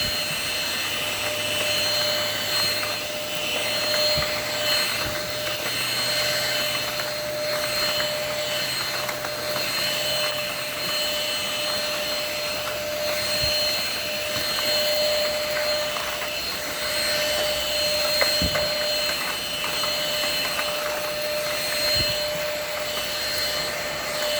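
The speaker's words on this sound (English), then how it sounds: "I'm very happy with this vacuum cleaner." An INSE N-5 cordless vacuum cleaner runs on its high setting with a steady, loud whining motor roar and airflow hiss, held constant throughout with occasional small bumps.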